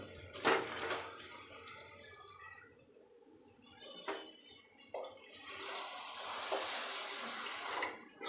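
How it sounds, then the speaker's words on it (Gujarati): Water poured into a pan of stuffed brinjal curry with gathiya and garam masala, a close splashing pour in several bursts that swells into a longer steady gush toward the end. "હવે થોડુંક પાણી નાખી દઈએ"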